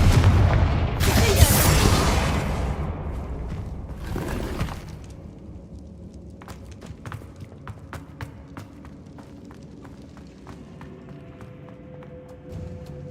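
Confringo fire spells blast in the video game Hogwarts Legacy, with two loud booming bursts early on, then quieter scattered clicks and thuds as the action settles.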